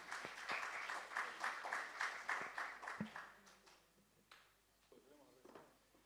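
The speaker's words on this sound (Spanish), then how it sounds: "Y un aplauso para todos los que nos ayudaron" Applause from a gathered audience at an arts education panel event, clapping steadily for about three seconds before thinning out into scattered claps and faint voices.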